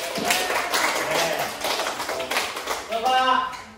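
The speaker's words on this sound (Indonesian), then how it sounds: "Tepuk tangan." A short round of hand clapping from a small group at a school guidance session, steady and fairly close, with a few voices mixed in toward the end.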